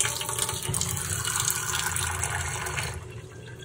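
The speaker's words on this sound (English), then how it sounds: "And then I pour some water in." Water pours steadily into a drink glass, a close, continuous splashing gush that fills the whole stretch and tapers slightly at the end, with no talking over it.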